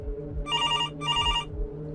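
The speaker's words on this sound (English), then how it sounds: "The sound of that phone ringing had become sickening" A telephone bell rings in two short trilling bursts separated by a brief gap, clear and close over a low droning background.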